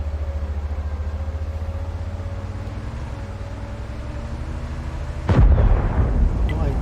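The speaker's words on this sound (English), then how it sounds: "locked on, fire a round out, but we don't get a hit" In World of Tanks, a T95 fires a single heavy cannon round, a loud, booming blast that cuts through a low, steady engine rumble.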